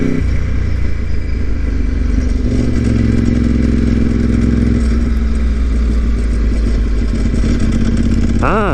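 A Ducati 748R sport motorcycle engine drones steadily at speed on a mountain pass road in Japan, with rumbling, wind-buffeted noise and a brief rising rev near the end.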